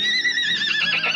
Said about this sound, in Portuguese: o cavalo do Void está todo machucado